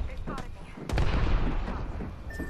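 Gunshots fire in the shooter game Apex Legends, with a few sharp cracks and a heavier booming burst close by, under the noise of an ongoing firefight and some player talk.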